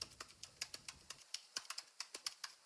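A computer keyboard is typed on, giving a quiet run of light, evenly spaced key clicks close by, with a low background hum that drops away partway through.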